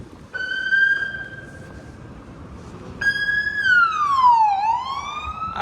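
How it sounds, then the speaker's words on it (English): A police car siren on Bloor Street West in Toronto wails near and loud, first a steady tone, then a rising and sweeping yelp that dips and climbs again as the car responds. "Out of the blue, it just started responding, lights and sirens."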